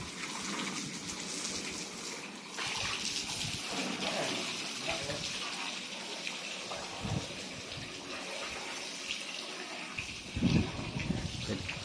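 Water splashes and runs steadily while a rabbit is bathed early in the morning, a continuous close wash with a brief louder splash near the end and someone talking over it.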